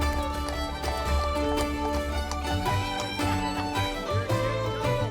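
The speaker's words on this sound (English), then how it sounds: "we're taking an afternoon stroll with the horses in Killarney National Park" Horse hooves clip-clop at a steady walking pace in Killarney National Park, mixed with background music and ambient noise.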